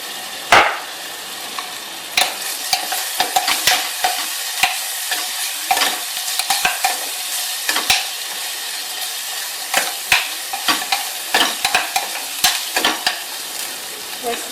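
Onions sizzle in a pan as turmeric and ginger-garlic paste are stirred in for a raw mango and prawn dish, with steady frying hiss and frequent sharp scrapes and clicks of a spoon against the pan.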